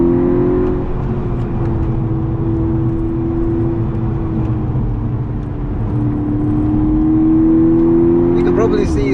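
A VW Golf GTI Edition 35 Mk6 accelerating at full throttle, a loud sustained engine drone rising steadily in pitch, heard from inside the car, with someone talking over it.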